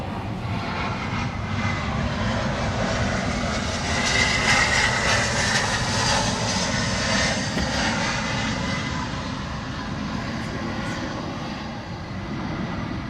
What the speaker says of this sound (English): There's an airplane that just flew right over our heads.